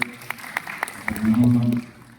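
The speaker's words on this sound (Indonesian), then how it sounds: "ini tepuk tangan untuk Dr. Syahrul" Scattered audience applause at a Halal bi halal gathering of the Persatuan Umat Islam, West Java: a few spaced claps, then a voice speaks over them.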